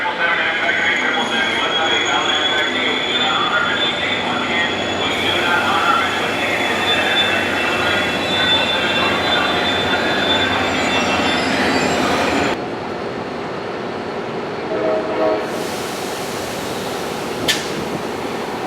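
Passenger train departing Fullerton station, a steady loud rumble of wagons and wheels with faint squealing, the sound thinning and quieting partway through.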